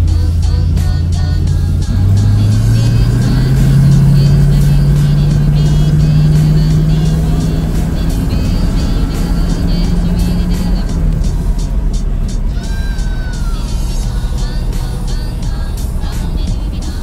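A teenager's dream car, a work in progress with brakes needing work, revs its engine and pulls away, the motor rising in pitch as it accelerates, loud and close, with faint voices in the background.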